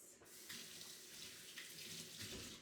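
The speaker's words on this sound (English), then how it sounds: "So I'm just going to rinse my hands." A tap runs into a kitchen sink while hands are rinsed under it, a steady close splashing stream with shifting gurgles and no talk.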